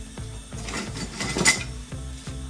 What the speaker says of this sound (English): My trusty spoon.